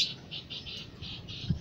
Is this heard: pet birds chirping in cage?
yes